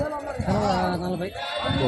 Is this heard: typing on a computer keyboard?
no